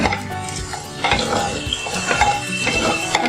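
Onions frying in a pan until brown for chicken matka biryani, a steady sizzle under repeated scraping and clinking of a spoon against the pot, close and busy with no voices.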